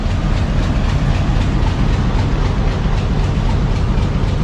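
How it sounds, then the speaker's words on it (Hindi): The Hazara Express train at Haripur railway station in Pakistan, bound for Rawalpindi. A loud, steady rumble of railcars and engine continues without a break from start to finish, close at hand. "सामने 12 टाउन हज़ारा एक्सप्रेस मौजूद है जो आगे बढ़ेगी अभी रावलपिंडी"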